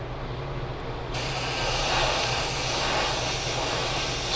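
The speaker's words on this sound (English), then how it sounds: "spray a good coat on there" Primer being sprayed onto a scale model in a heavy, wet coat: after about a second a steady broadband hiss of spray starts and continues close and loud to the end, with no talking.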